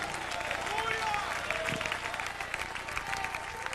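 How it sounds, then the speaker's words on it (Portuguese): Church congregation applauding during a Portuguese-language sermon, a sustained wash of clapping heard quietly, with a preacher's voice and sung tones carrying over it. "Aplauda o Senhor com alegria"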